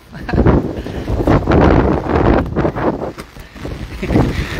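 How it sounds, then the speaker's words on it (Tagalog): Strong wind buffets the microphone in loud, roaring gusts that swell and ease, with faint background noise beneath. "lakas ng hangin eh"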